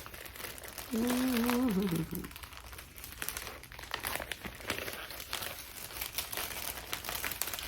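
Plastic bag crinkling as cross-stitch kits are handled, soft rustles and crackles running on and off at low volume, with a person talking nearby.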